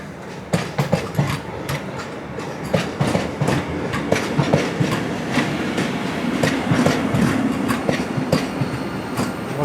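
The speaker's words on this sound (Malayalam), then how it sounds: "കാസർഗോഡേക്ക് പോകുന്ന നമ്മുടെ 20634 Thiruvananthapuram central Kasaragod Vande Bharat express Ernakulam town സ്റ്റേഷനിൽ എത്തിയിരിക്കുകയാണ്" The 20634 Thiruvananthapuram Central–Kasaragod Vande Bharat Express pulls into Ernakulam Town station, its wheels clicking rhythmically over rail joints under a continuous rumble, close and loud.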